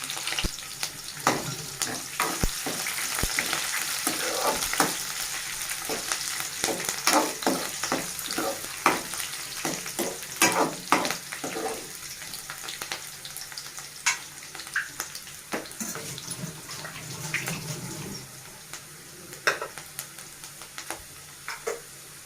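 Chopped onion crackles and sizzles in hot oil for a tempering, the base of a bottle gourd curry, with sharp irregular pops and spatters, stirring clatters, a dense start that thins out toward the end, and no talking.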